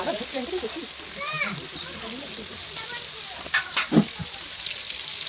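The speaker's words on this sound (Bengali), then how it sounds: "এই যে দেখো কীরকম নাড়ছি দেখো" Desi chicken frying and being stirred in a pan gives a continuous sizzle with a few stirring knocks near the end, while someone speaks over it.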